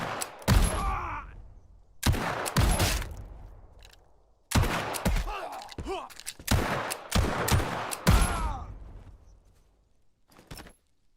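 Pistol gunfire in the Western survival game Legend of California, several sharp, loud shots spaced a second or two apart, each followed by a short ringing tail, with no talk over them.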